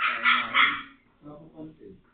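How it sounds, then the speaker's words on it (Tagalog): A dog at home whimpers in a high, drawn-out whine, then gives a few short, lower barks or yips, fairly close and clear. "Umando yung aso? Ba't umiyak?"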